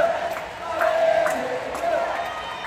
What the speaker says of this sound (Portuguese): E a torcida tá aqui, ó.